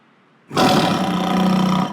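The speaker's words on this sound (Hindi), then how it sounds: "तुमने भी शेर की आवाज सुनी?" A sudden loud roar bursts in after a quiet moment and holds steady, a deep lion-like bellow produced by the horn of a car with a 500-horsepower V8 engine.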